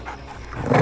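A dog gives a short bark-like burst, growing louder toward the end, alone with no talk over it.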